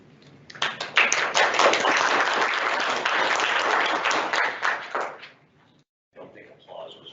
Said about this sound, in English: I don't think applause was required